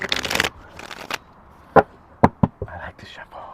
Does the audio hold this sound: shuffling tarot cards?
yes